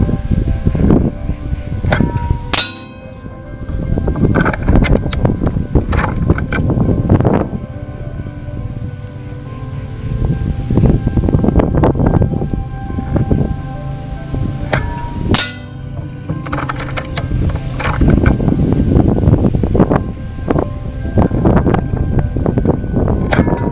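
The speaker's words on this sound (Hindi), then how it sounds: "काफ़ी तेज हवा चल रही है, देखिए टारगेट कम्प्लीटली टारगेट हिल रहा है" Strong wind gusts across an outdoor shooting range, a steady loud rush with buffeting rumble at the microphone and a few sharp knocks, continuous for the whole stretch with no talking.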